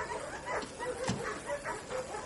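Several dogs bark and whimper in bursts, a moderately distant, rhythmic series of yelps and whines against a noisy background, with no one speaking.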